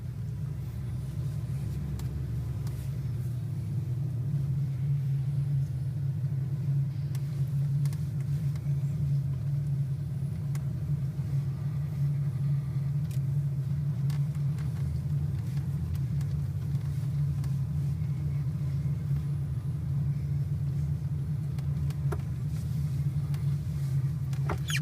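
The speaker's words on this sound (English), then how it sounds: "There's many trucks and driving around and everywhere." Trucks and other vehicles moving around a clean commercial area, heard as a continuous low engine rumble with a faint hiss of traffic, steady and moderately distant, with no talking.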